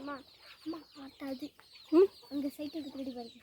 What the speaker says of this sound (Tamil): அங்கே பாருங்கள் கோழி பார்த்தீங்களா